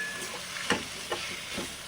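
Onion, vegetables and curry leaves frying in a pan for ragi shavige uppittu, a soft steady sizzle with two or three brief stirring scrapes.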